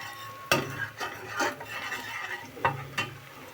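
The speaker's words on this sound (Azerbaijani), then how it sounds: "Soğanı qovurum, kiftə pişirəcəm." Onions fry in a pan at home while being stirred, with a soft steady sizzle broken by several sharp scraping and clinking strikes of a utensil against the pan, close and without talk.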